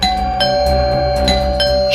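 Doorbell ringing repeatedly in a Hindi crime drama scene, bright chiming tones struck several times in a quick rhythm, loud and close with no talk.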